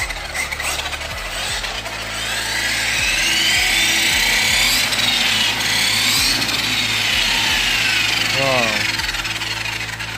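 A 2019 Savage Flux RC car motor runs up on a stand, a loud continuous high whine with rising and falling revs and sweeping pitch, mixed with someone talking over it.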